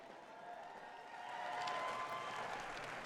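Distant crowd applause at a women's skateboard park contest, a soft wash of clapping and cheering that swells slightly midway and stays faint and far off.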